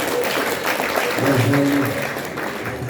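Applause from an audience at a company iftar gathering at Panasonic in Central Jakarta, honoring the president director, a dense steady wash of clapping with a voice speaking briefly over it.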